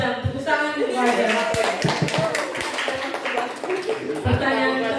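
An audience at a health quiz competition claps hands in a short burst of irregular, fairly loud taps, with voices mixed in.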